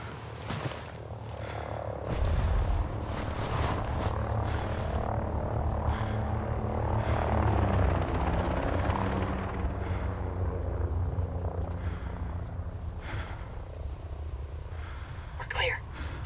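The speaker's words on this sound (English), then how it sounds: "Chopper overhead." An enemy helicopter passes overhead in the video game Ghost Recon Breakpoint, a steady low rotor rumble and drone that holds for the whole stretch, loud and continuous beneath other game sounds and voices.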